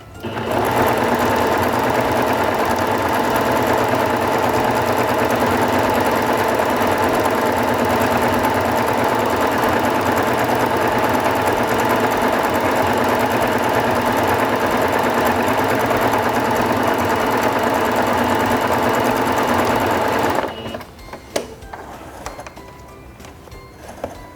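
A SINGER Fashion Mate 5560 sewing machine runs a decorative vine stitch with a loud, close, continuous motor whir and needle chatter for about twenty seconds, then stops abruptly, leaving quiet handling noises.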